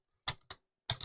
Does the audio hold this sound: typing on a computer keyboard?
yes